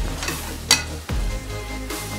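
Chicken pieces brown in a hot frying pan with a continuous close sizzle, broken by a brief clink and a soft scrape against the pan.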